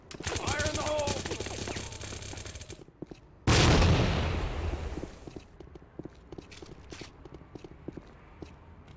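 A loud grenade blast in the online shooter Tactical Ops, a sudden booming burst that decays over about a second, amid gunfire and game sound effects.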